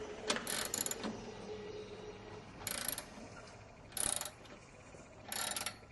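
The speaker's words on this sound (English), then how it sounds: "And now lock down the 4 elevation bolts." Ratcheting wrench tightening the elevation bolts on a satellite dish mount during a VSAT installation, in four short bursts of clicking separated by quiet pauses, fairly faint and close.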